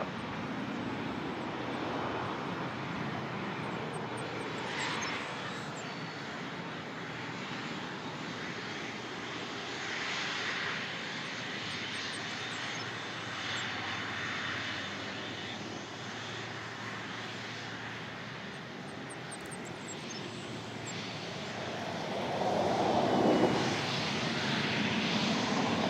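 An Air Canada heavy airliner lands on runway 24 left at Toronto Pearson, its engines a steady broadband roar that stays loud for the whole stretch and swells slightly near the end, with no voices.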